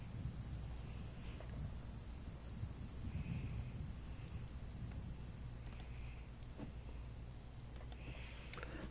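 Thunderstorm on a coast in Elder Scrolls Online, steady rain hiss under low rolling thunder rumbles, with faint wind gusts, no talk.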